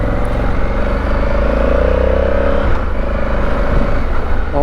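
A bus passing on a South American road, heard from a motorcycle trip: a loud, close engine drone with a rising and falling tone and some clatter, steady throughout with no talk.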